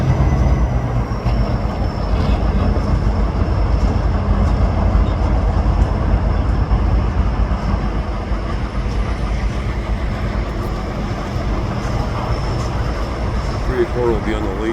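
Four locomotives pulling a departing train make a loud, continuous low rumble and engine drone, with a steady roar of rolling rail noise close by throughout.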